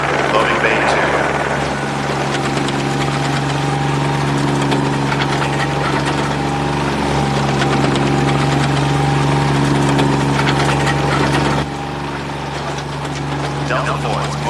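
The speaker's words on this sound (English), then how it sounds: "Prepare for incoming chopper." Film scene with a helicopter arriving and then idling, its engine and rotor drone heavy and continuous for the whole stretch, loud and close, and easing slightly near the end.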